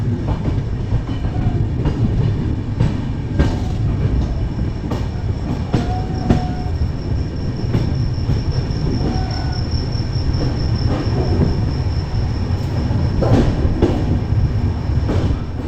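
A train rolls steadily along the rails at night near Varanasi Junction, with a continuous low rumble, occasional wheel squeals and faint rhythmic clatter, close and loud throughout.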